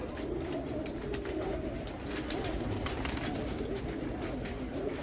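Pigeons settle onto a perch and coo steadily as soft wingbeats and scattered flutters mix in, a continuous, moderately close murmur of birds with no voices.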